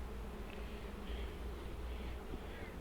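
Honey bees hum in a dense, continuous buzzing swarm during an open hive inspection, a close, steady drone with no talking.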